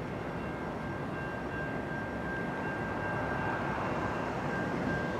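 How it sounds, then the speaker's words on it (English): A southbound train rolls along the main line through Salisbury at night, a continuous heavy rumble of wheels and engine with a sustained steady tone above it, holding loud and even for the whole stretch with no voices. "we have an unexpected southbound train here in Salisbury"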